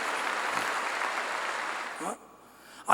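A church congregation applauds during a Korean pastor's sermon: a dense, steady wash of clapping fills the room for about two seconds, then stops abruptly, leaving near quiet before a brief burst at the very end.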